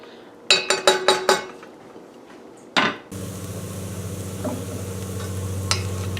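Onions for corn chowder cooking at medium-low heat in a pan, a string of sharp metallic clinks and taps giving way to a steady soft sizzle.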